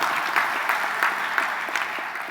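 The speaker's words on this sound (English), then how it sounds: "So, round of applause." An audience at a CSSconf tech conference talk applauds, a brief, even burst of many hands clapping at moderate loudness with occasional louder claps, no voices over it.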